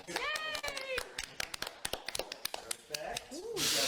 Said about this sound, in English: Let me get some applause.